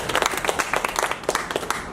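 Brief audience applause at a basketball talk evening: close, brisk clapping from a small group, steady and fairly loud throughout the short burst.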